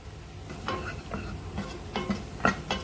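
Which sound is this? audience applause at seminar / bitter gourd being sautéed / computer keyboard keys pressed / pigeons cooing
bitter gourd being sautéed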